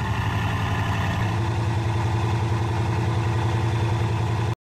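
A Bugatti Veyron Grand Vitesse engine hums at a steady idle, a smooth continuous drone heard alone with no voices, cutting off abruptly at the end.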